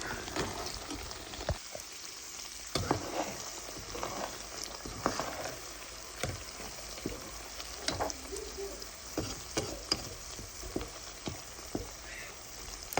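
Homemade hair oil frying in a pot and stirred now and then with a ladle: a faint, low sizzle with scattered crackles and scraping clicks, heard alone.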